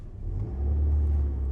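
The engine of a beat-up, abused Ford Ranger pickup truck revs up from an idle into a steady, deep rumbling drone, heard close and loud.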